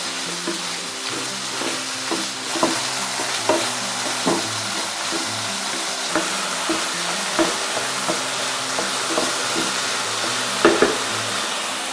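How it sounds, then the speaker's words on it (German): Chicken meat fries in hot oil in a pan, a steady close sizzle broken by regular scraping and clacking as it is stirred with a utensil. "Wir braten das Hähnchenfleisch schon mal vorab."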